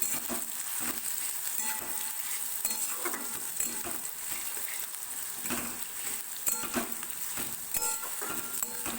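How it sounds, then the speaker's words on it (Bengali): Steady sizzling fills the whole stretch as onions fry in a pan, with occasional scraping stirs and light utensil taps, close and fairly loud. "পেঁয়াজটাকে হালকা একটু ভাজা ভাজা করতে হবে"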